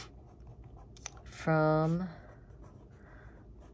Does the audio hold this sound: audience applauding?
no